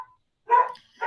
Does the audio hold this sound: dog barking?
yes